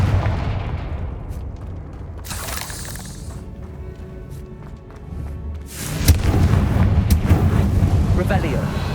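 Confringo fire spell from Hogwarts Legacy, a loud explosive burst with a crackling blast mid-clip and a heavier rumbling impact after, over steady game ambience.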